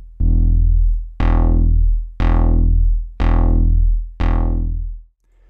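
A sustained synth tone pulses five times at an even pace, each note cutting in sharply and then fading downward in a repeating half-note down-ramp modulation on a Maestro Chain.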